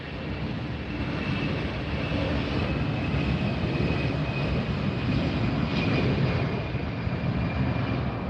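A jet airliner takes off at LAX, a steady broad roar of engines at a moderate distance holding constant for several seconds with no speech.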